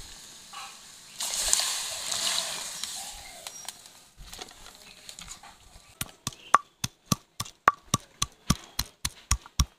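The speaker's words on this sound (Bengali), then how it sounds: "জল গরম হয়ে গেছে, এবার কেটে ধুয়ে রাখা কচু আর আলু দিয়ে দিচ্ছি।" Cut taro and potato pieces go into heated, salted and turmeric-spiced water in a wok, with a burst of splashing and sloshing early on, then a run of regular, sharp close taps.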